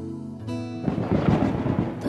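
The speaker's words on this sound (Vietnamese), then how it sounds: "Thôi chết rồi, lại sắp mưa to gió lớn rồi, phải che chắn gấp cho cây." Thunder rolls ahead of a heavy storm in an animated folk tale, a rumbling crash breaking in after a brief musical tone and continuing as a loud, churning roar with rain-like texture.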